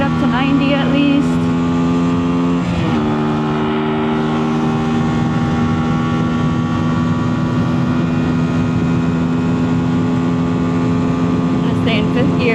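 Cruiser motorcycle engine pulling hard through fourth gear, a close, continuous drone whose pitch climbs steadily, with one brief dip near the shift.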